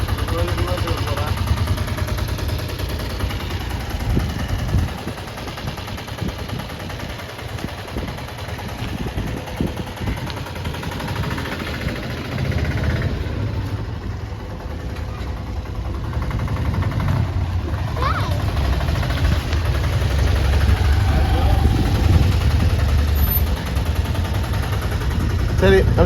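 Continuous rattling drone of an auto rickshaw engine while it reverses, a steady, loud putter with a little rise and fall in level and a voice speaking faintly over it.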